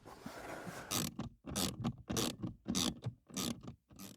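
Bolts come out of a Vauxhall Corsa D blower motor: a run of short ratcheting bursts, roughly seven quick clicking strokes separated by brief pauses, close and faint, with no talk.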